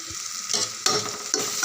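A spoon stirs coriander powder, turmeric and fish curry masala into a South Indian crab gravy in a hot pan, a steady scraping stir over a continuous sizzle with a few sharper scrapes along the way.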